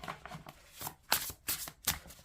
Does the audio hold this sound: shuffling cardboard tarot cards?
yes